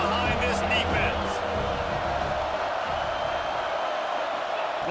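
A stadium crowd roars behind the defense on a big third down in EA Sports College Football 26. The dense, loud wash of cheering holds steady throughout.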